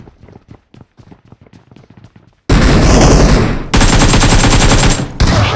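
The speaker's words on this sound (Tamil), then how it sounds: "ஏய் ஷார்ட் கன் வெளிய இருந்து" Loud shotgun blasts in the Super Sus video game, a sustained heavy burst of gunfire cutting in abruptly after a stretch of quiet rhythmic tapping, with brief gaps between the bursts.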